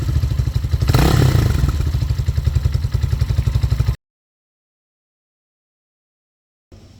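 A 2023 Hawk X 250 motorcycle with a counterbalanced engine revs up close by, its steady throbbing idle rising into a throttle blip before cutting abruptly to silence after about four seconds.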